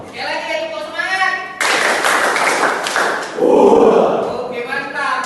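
A school class does the rhythmic 'tepuk semangat' clapping routine: a teacher speaks, then a burst of loud, close group claps and taps follows, with children's voices chanting along partway through.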